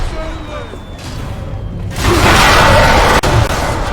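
A loud explosion in the video game Bioshock bursts in about halfway through as a sudden broadband roar, holding strong for over a second with a brief dip, after quieter in-game ambience.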